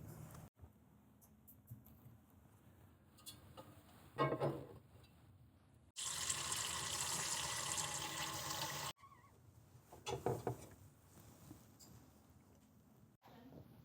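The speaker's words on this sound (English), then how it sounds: "now I'm going to fill this pot with the amount of water I need for this pasta" Tap water running into a pasta pot in a kitchen, a steady, bright gushing stream for a few seconds, set between quieter handling noises and soft clatter.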